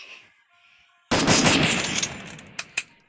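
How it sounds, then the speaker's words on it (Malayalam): A sudden loud gunshot blast in the video game Free Fire with a long rumbling decay, followed by two sharper, quicker shots; faint electronic game tones play beforehand. "ഒരു വെടി കൊടുത്തിട്ടുണ്ട്, ഒന്നും ഏൽക്കുന്നില്ല"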